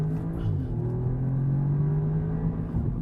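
An Audi S3 accelerates hard, its engine note climbing steadily from inside the car, a smooth rising hum with no talk.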